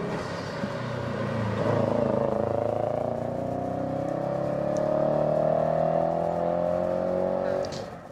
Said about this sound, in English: Harrison Bliss's WRX is up there now. Just about to hit that really tight bit.